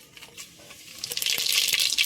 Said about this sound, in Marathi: तर आता आपण त्यात तेजपत्ता टाकून घेऊ